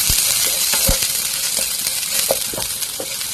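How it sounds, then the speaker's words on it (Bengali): Onions sizzling in oil in a pan over a low gas flame, a steady close frying hiss with a few soft stirring clicks and pops. "আর গ্যাস লো আছে দিয়া পেঁয়াজটা একটু বাজা বাজা করে নিব"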